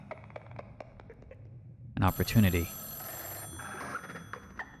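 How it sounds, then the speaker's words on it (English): A telephone rings in the video game Echostasis, a bright electronic ring with a sustained tone after a loud burst, set against soft background music; a voice speaks briefly over it. "Behind you, a phone rings."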